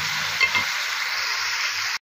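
Green chilies, cinnamon and cardamom fry in a pan for beef pulao, giving a steady, close sizzle with a few stirring scrapes near the start, alone and without talk, cut off abruptly at the end.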